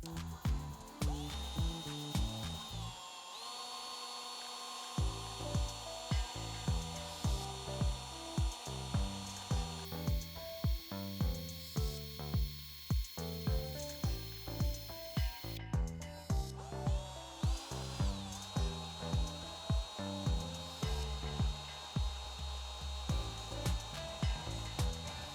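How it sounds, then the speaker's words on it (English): Repeated bursts of a power drill biting through clamped wood, with rhythmic mechanical clatter and a steady motor whine running throughout, close and fairly loud. "So I've clamped these together with some wood so I can drill straight through."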